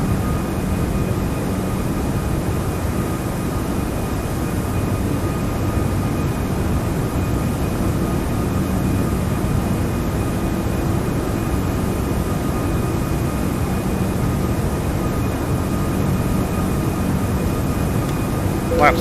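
Steady, loud engine roar of a Toliss Airbus A340-600 departing Seattle in X-Plane 12, a constant dense rumble with a faint tonal whine throughout.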